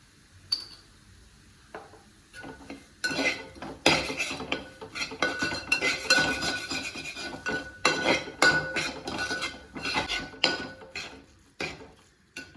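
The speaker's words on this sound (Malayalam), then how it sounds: "മസാല നന്നായിട്ട് വഴറ്റിയത് തക്കാളി ആഡ് ചെയ്യാൻ വേണ്ടി നന്നായിട്ട് വഴറ്റി കൊടുക്കാം കേട്ടോ." A spoon scrapes and clatters against a metal pan as masala with tomato is stirred and sautéed, the clinks and scrapes running close and steady with no voices.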